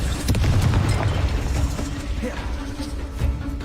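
A Confringo blasting spell going off in Hogwarts Legacy, a low booming burst with mechanical rattling that fades into a rumbling tail, moderately loud and close, with voices from the game mixed underneath.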